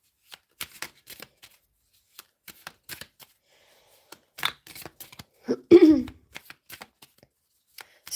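Tarot cards being shuffled by hand in a quiet room, with scattered soft taps and riffles that build to a louder, brief flurry of card noise near the end.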